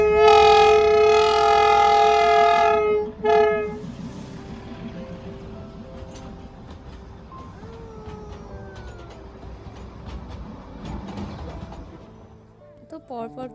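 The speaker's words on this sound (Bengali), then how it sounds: "ট্রেন আসবে, টয় ট্রেন।" The Darjeeling toy train passes near Batasia Loop, opening with a loud, sustained multi-tone horn blast, then a second short blast, followed by rumbling wheels and clatter as it moves off, with people talking nearby.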